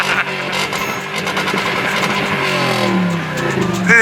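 A truck engine revs close up, its rough mid-pitched roar rising and falling in pitch over several seconds, with a brief burst of noise at the end and no talking.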